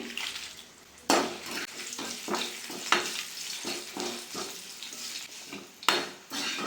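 Curry leaves and dry red chillies fry in hot oil in a pan for a seasoning tempering, with a steady close crackle broken by sharp clanks of a spoon stirring against the metal pan.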